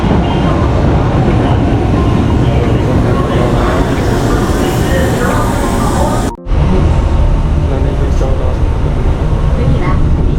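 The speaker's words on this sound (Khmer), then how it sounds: "រថភ្លើងមកដល់ហើយ" A passenger train pulling into a station, a loud, steady rumbling roar with rolling clatter close by that continues nearly unbroken to the end.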